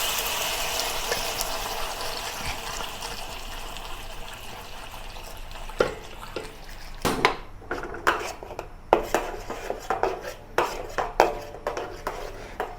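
Spice paste for Malaysian ayam percik is added to oil in a wok, first giving a steady hiss, then a run of sharp metallic scrapes and clanks from a utensil stirring against the wok.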